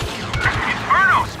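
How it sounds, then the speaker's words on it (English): Blaster and weapon fire in the Star Wars Battlefront 2 video game, a quick run of sharp shots and booms over the battle din, with tonal laser-like sweeps and game voices talking over it. "Stand your ground and return fire!"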